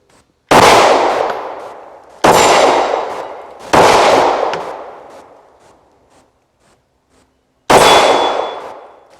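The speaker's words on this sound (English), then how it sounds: "we're going to go ahead and take some shots and see how it does" A Glock 17 Gen 5 pistol fires four loud, sharp shots outdoors. Three come in fairly quick succession and a fourth follows after a pause, each with a decaying echo.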